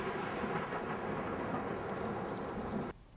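Summer afternoon thunderstorm with a steady, dense roar of thunder and heavy rain, loud and continuous before cutting off abruptly near the end.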